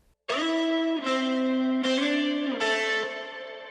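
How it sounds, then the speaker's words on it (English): Sustained double-tracked electric guitar chords ring out with a wide, reverberant wash, struck four times about a second apart, each decaying slowly into the next. "this is that same tone, it's just got a little bit of extra reverb on it"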